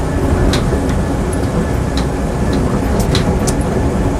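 A Land Rover Series 2A 88-inch hardtop runs continuously with a loud, steady engine drone heard from close by, with a few faint clicks and rattles over the top and no talking.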